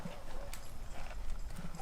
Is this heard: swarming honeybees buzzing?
no